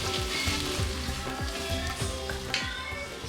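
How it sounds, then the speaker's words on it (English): Fried onions sizzling in a pan as they go into a fish biryani, a steady crackling hiss with soft stirring knocks, close and continuous. "The fried onions go in, keeping a bit aside for garnish."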